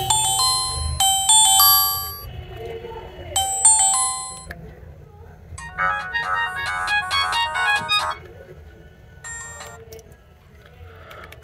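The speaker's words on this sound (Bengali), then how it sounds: "তাহলে বরাবরের মতো ফোনের যে রিংটোনের সাউন্ড সেটা একটু চেক করব।" Ringtones from a Symphony M50 keypad phone: several short bright electronic melodies of beeping tones, played one after another in bursts with brief pauses, loud and close.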